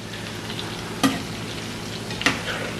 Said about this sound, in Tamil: நல்லா கிறிஸ்பியாக பொரிஞ்சு வரணும்